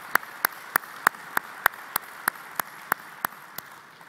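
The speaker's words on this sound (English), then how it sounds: "Applause for Mr. Josh." A single person claps slowly and evenly at a conference after a presentation, about a dozen crisp claps spaced roughly a third of a second apart against a quiet room.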